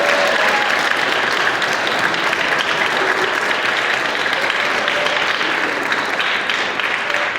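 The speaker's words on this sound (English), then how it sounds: "They deserve a round of applause." An audience applauds at a school jazz concert, with dense, steady clapping from a crowd filling the hall. It carries on evenly for several seconds, with no voices on top.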